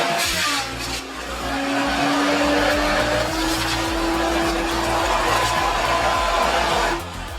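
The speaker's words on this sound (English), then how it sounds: "The Wer B768 Feller Buncher is a purpose-built logging machine designed to cut down and gather multiple trees efficiently and safely." A Wer B768 feller buncher logging machine cutting down trees, heard as a loud, steady engine roar with a sustained high whine and rough mechanical grinding that runs almost the whole time before dropping off at the end.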